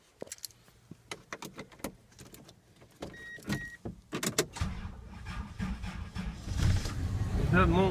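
An old truck is cranked on a cold winter storm morning near Pensacola Beach: a few sharp clicks come first, then a rough, grinding cranking noise builds and grows louder toward the end.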